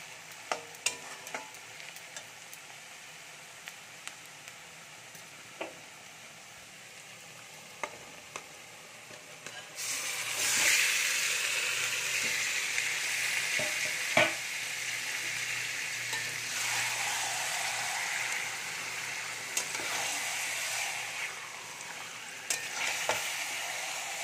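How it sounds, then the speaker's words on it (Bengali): Marinated chicken added to onions frying in a pan, with sparse stirring clicks at first, then a loud burst of sizzling that holds steady, punctuated by scrapes of the spoon. "তো এবারে আমি ম্যারিনেট করা চিকেনটা দিয়ে দেব।"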